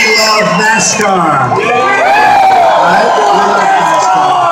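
A large crowd of about 3,000 people at a packed NASCAR rally in Daytona cheers and whoops continuously, loud and close, with voices shouting over the steady roar throughout.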